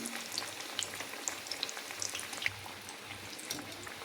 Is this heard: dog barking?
no